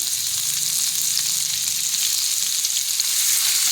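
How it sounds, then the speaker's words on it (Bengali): Chopped onion fries in oil for chow mein, a loud, steady close-up sizzle with a bright crackling hiss and no pauses. "ওই তেলের মধ্যে আমি দিয়ে দেব একটা মাঝারি সাইজের কোচানো পেঁয়াজ।"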